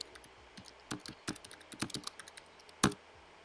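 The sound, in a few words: typing a clothing listing on a computer keyboard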